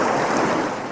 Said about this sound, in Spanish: El agua comenzó a brotar por todas partes del árbol.